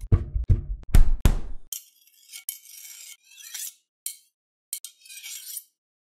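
Knives clatter as percussion samples, starting with several sharp, close metallic knocks and clinks. Scattered bright scraping and ringing bits follow, set apart by short silences.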